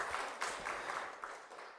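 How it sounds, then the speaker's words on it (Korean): Faint clapping from a church congregation during an afternoon service, heard as a soft, distant patter of hands that fades slightly toward the end. "다시 한번 감사의 박수 드리겠습니다"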